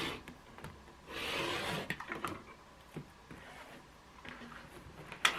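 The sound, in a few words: trimmer cutting cushion cover fabric to size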